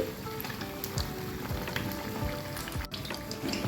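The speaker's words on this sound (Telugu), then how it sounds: "ఫ్రై చేసేసుకోవాలి మీడియం ఫ్లేమ్లో పెట్టి ఇలా ఫ్రై చేస్తే కనుక అన్నీ సమానంగా రెండు వైపులా కూడా చక్కటిగా బ్రౌన్ కలర్లో గోల్డెన్ కలర్లో వస్తాయండి" Egg bajji deep-frying in oil on a medium flame crackles and bubbles in a continuous close sizzle, dotted with sharp pops and spits from the batter, with no talk.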